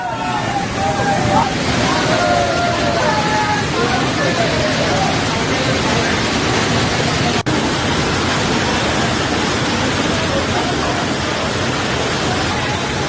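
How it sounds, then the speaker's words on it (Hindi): Heavy monsoon rainwater rushes through the Jatashankar temple in Madhya Pradesh, a loud, dense, continuous roar of flowing water and downpour, steady throughout with no pauses. "बारिश का पानी देखिए कि किस तरीके से भोलेनाथ के पास मंदिर में बह रहा है"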